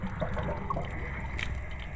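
Water draining fast from a travel trailer's hot water tank after the relief valve is opened, a steady continuous gush and splash with no pauses, moderately loud and close.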